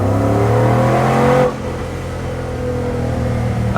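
A supercharged Chevrolet Suburban accelerates hard in first gear, its close, loud engine climbing in pitch with supercharger whine for over a second before the revs drop sharply and settle to a lower drone.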